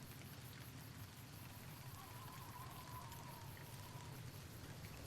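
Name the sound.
rain in video game Fallout New Vegas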